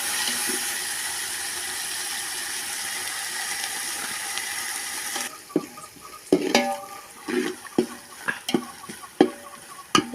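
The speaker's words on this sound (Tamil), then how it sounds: "இஞ்சி பூண்டு போட்ட பிறகு கொஞ்சம் கிண்டிகிட்டே இருங்க இல்லைன்னா அடி பிடிக்கும்" Ginger and garlic fry in a pot for a turkey biryani, a steady sizzle at first, then sharp, irregular scraping knocks of a spoon stirring against the metal.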